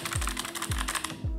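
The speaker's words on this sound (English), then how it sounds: "my keyboard is actually very clicky as well. This is the, I think this is the Logitech MX keys." Clicky typing on a Logitech MX Keys keyboard: a close, rapid run of crisp key clicks punctuated by a few deeper thumps, with no voices.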